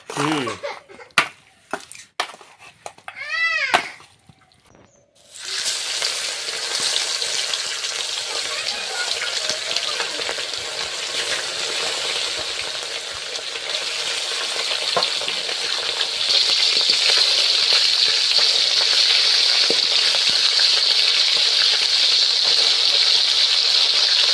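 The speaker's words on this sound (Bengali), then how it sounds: "প্রথমে মাছটা ভেজে নেব" Fresh pond fish goes into hot oil after several sharp clinks and knocks, and a loud, steady frying sizzle follows that grows a little brighter toward the end, close up with no talking.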